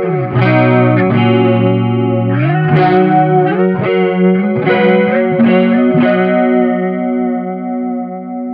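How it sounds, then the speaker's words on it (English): Guitar through a Sonicake chorus pedal set to full, ringing notes and chords warbling with a heavy, wobbly pitch modulation, loud and solo, fading out at the end. "You can hear it gets really wobbly if you have it all the way maxed"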